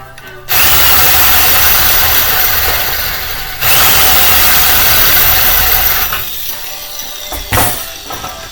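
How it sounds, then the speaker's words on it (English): A power drill drives screws into metal, countersinking them flush, its loud whining motor running in long sustained bursts with brief pauses and a short final spin. "I'm making sure that all of these screws that I'm countersinking are just down or level with the top of this metal"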